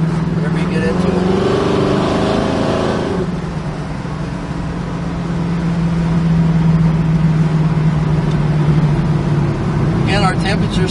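A 1968 Chevrolet Camaro engine runs steadily while driving on a straight road, a deep, throaty low drone that stays fairly loud throughout and swells slightly as it is given more throttle.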